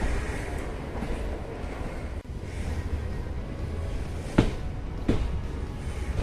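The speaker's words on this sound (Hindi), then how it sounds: "ये देखिए एक डीजल लोकोमोटिव खड़ा हुआ है" Low, steady railway rumble at Anwarganj station platform as the train arrives near a standing diesel locomotive, with wind buffeting and a couple of sharp metallic clanks, no talk.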